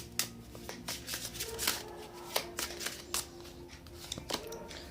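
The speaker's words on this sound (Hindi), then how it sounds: "3 कार्ड्स निकालूंगी मैं यहाँ पर।" Tarot cards being shuffled and drawn, a steady papery riffle and flutter with sharp slaps as cards land, close and fairly quiet, no talking.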